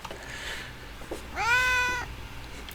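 A single drawn-out cat meow from a movie scene, rising and then holding steady for about half a second, heard clearly over a quiet, faintly noisy soundtrack.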